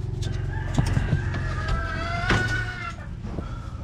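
Several chickens cluck and call in a bamboo coop in a backyard, their overlapping clucks and a drawn-out crow-like call close and clear above a steady background hum.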